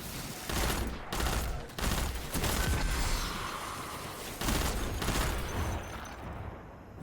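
Gunfire in Destiny 2, repeated bursts of automatic fire rattling in several clustered volleys, fairly distant and moderately loud, with short pauses between them.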